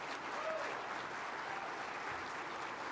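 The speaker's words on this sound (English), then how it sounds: "So a round of applause for all these chief officers that are in the room leading the way." An audience at a state fire school opening ceremony applauds fire chief officers, a steady wash of clapping heard from a moderate distance, fairly soft and even throughout.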